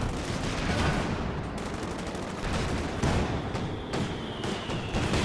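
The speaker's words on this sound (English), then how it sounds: "Double flak panzers, man, just shredding in here." Flak panzers in a Company of Heroes 2 battle open fire, dense rapid bursts of autocannon rounds rattling nonstop over a heavy rumble of combat, loud and continuous with no voices.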